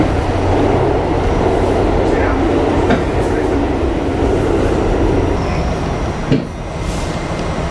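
A New York City subway train at the 110th Street station makes a continuous loud rumble with occasional metallic clacks, and a sharper rattle near the end as the sound briefly eases.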